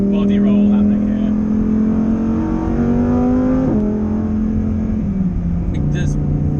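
Lamborghini Huracán Performante engine, heard from inside the car during a drive, holds a loud steady drone, then blips through a downshift with a quick rise and fall in pitch, and continues to hum.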